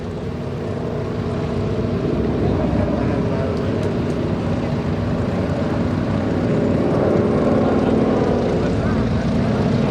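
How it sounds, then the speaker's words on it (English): A Curtiss C-46 Commando propeller transport of the USAAF approaches and circles overhead, its engines a steady, loud droning rumble that swells slightly toward the end. "as the aircraft approaches and circles over top, that's when the wind drift indicators will exit."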